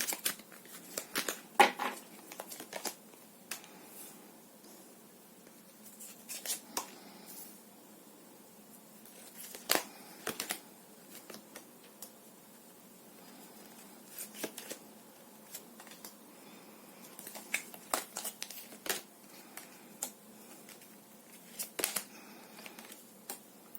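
Tarot cards are drawn and laid out on a table: soft, scattered flicks, taps and slides of card stock come in irregular bursts over quiet background hiss.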